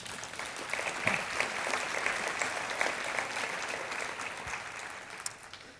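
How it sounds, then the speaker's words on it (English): An audience applauds the local health department at a public health talk on the opioid epidemic, a sustained round of clapping that swells early and tapers near the end. "I think that is a huge round of applause for this local health department"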